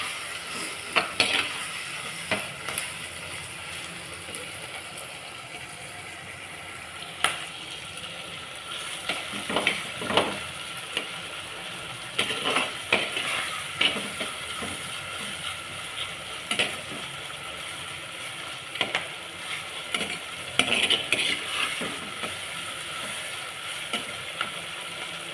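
Big onions sautéing in a pan for a rock fish curry, a steady sizzle broken by frequent scraping stir strokes, close and fairly loud, with no talking.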